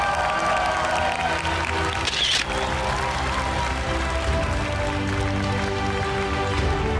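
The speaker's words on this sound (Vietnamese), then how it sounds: "Một tràng vỗ tay thật to để chào đón diễn viên Anh Đức." Studio audience applause greets a guest actor on a Vietnamese TV show, a steady dense clapping wash mixed with music throughout.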